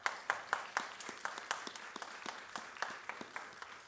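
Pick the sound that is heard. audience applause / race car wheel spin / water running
audience applause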